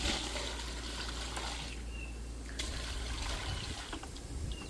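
Half of a 5-gallon container of Release all-purpose cleaner being dumped out, a steady, continuous gush and splash of liquid close by with no talking.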